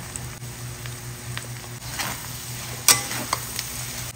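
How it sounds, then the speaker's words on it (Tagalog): Meat sautéing in a pan for dinuguan, a soft steady sizzle with occasional light stirring scrapes and a few sharper clicks, fairly quiet and close with no talking. "So, gigisa ko lang ito mabuti mga mi hanggang sa medyo mag-slightly brown."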